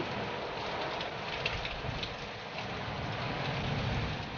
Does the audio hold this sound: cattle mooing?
no